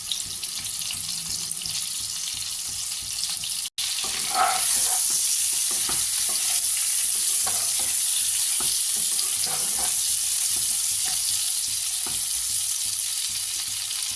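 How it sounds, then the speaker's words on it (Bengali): A steady, loud sizzle of pointed gourd frying in hot oil, with occasional stirring clatters and a brief break near the start. "পটল কেটে ধুয়ে রেখেছিলাম, এগুলোকে আগে ভেজে নিচ্ছি মাছ ভাজার তেলটার মধ্যে।"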